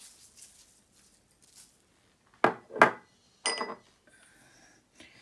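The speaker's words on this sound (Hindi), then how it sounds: "फिर इसके बाद हम इसे चॉप करेंगे" A knife chops meat for Adana kebab on a cutting board, with two sharp thuds close together, a short pause, then a third heavier chop and a faint knock at the end, against a quiet background.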